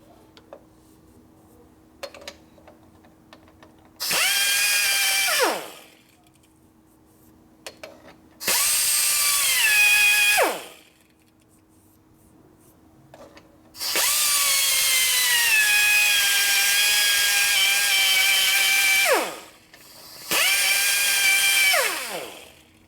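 A grinder ports a 52mm OEM fuel injector manifold from a Harley twin cam touring bike in four separate bursts. Each burst spins up to a loud, high whine, holds, then winds down, with quiet pauses between them.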